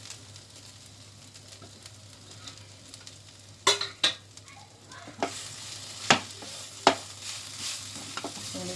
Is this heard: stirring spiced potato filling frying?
yes